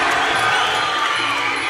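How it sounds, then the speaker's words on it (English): A fight crowd roars in steady support of Corey, the underdog fighter, a dense, continuous wash of cheering voices at moderate distance with no clear breaks. "Crowd's really getting behind Corey now, the underdog"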